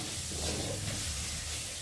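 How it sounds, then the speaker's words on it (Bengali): Cumin powder and chili powder sautéing in a pan for a banana bharta, giving a soft, steady sizzle with a faint hiss that runs evenly without a break. "দিয়ে ভালো করে মশলাটা একটু কষিয়ে নেব"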